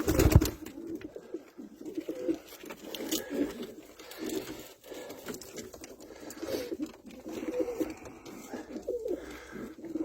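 Pied black-and-white pigeons flying in to a loft, with soft cooing and wing patter throughout, moderately loud and close, and a sharper flutter at the start.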